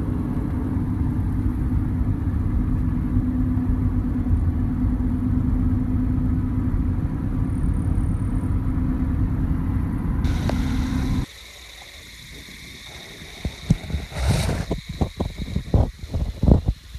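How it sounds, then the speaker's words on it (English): A car travels down an open road with a loud, steady engine rumble and road roar that holds for about eleven seconds, then drops away to a quieter stretch broken by scattered clicks and knocks. "Driving down the open road"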